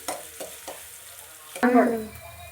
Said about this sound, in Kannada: ಈರುಳ್ಳಿನ ಚೆನ್ನಾಗೆ ಫ್ರೈ ಮಾಡ್ಕೊಳ್ಳಿ ಚೆನ್ನಾಗಿ ಬ್ರೌನ್ ಶೇಡ್ ಬರೋವರೆಗೂ ಫ್ರೈ ಮಾಡ್ಕೊಳ್ಳಿ